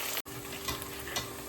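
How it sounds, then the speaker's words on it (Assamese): Onions frying in a pan for a home-style meat pulao, a steady close sizzle with faint stirring scrapes throughout and a brief dropout near the start. "পিঁয়াজটো অলপ ভাজি দিলোঁ। পিঁয়াজটো অকণমান ৰঙচুৱা হোৱালৈকে ভাজি থাকিব লাগিব।"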